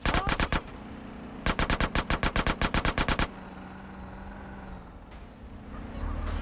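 Automatic gunfire bursts from Grand Theft Auto: The Definitive Edition, a short volley and then a longer rapid string of loud, evenly spaced shots, followed by quieter game ambience.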